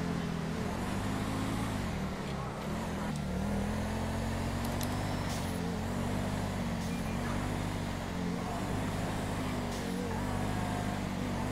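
A car engine drones steadily while driving in the video game GTA 5, a continuous low rumble with slight rises in pitch, loud and close throughout.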